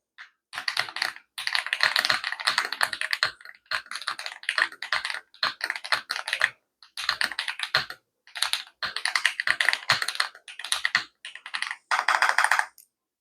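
An AJAZZ AKS068 mechanical computer keyboard typed on steadily in close, crisp bursts of rapid keystrokes with brief pauses between runs, no voices present.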